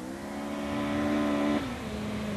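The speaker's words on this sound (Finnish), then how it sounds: "Ja Mika Sillankorva jarruttelee voimakkaasti." A rally car brakes hard on a winter stage of the 1984 Hankiralli in Finland, its loud engine note holding steady and then dropping sharply as it slows, with no talk.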